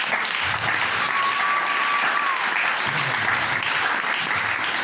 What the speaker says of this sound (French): Dans le nom de Jésus, applaudissons notre Dieu.